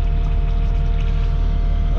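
A brush cat's engine idles steadily after a leak repair, a continuous low rumble with a constant hum and no voices.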